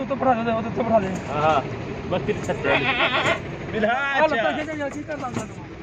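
Goats bleat repeatedly and loudly while being loaded into a cargo vehicle at a goat farm in Peshawar, with people talking throughout and wavering calls breaking through the voices.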